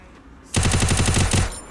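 Submachine gun fire from a UMP in the Free Fire game: a loud, fast burst of rapid shots lasting under a second, with a short gap and a final few rounds, heard up close with no talking.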